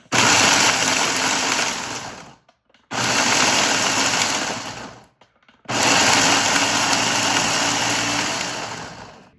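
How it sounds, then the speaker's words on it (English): A blender grinds pemmican ingredients loudly in three bursts, each running about two to three seconds with brief silent pauses between them. "Not like you don't know how to use a blender, but go ahead and turn that on"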